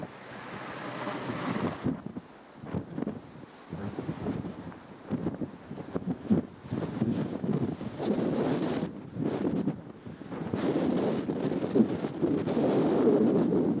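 Strong wind blows across the summit of Mount Beadell along the Gunbarrel Highway, roaring and buffeting the microphone in loud, gusty surges that rise and fall throughout, with no talk heard.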